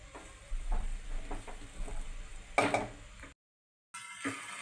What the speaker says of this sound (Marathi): आता हा शिजवलेला भात या स्टेपला आपण गुळाच्या मिश्रणामध्ये टाकून घेणार आहोत हलक्या हाताने आपण भात व्यवस्थित मिक्स करून घेणार आहोत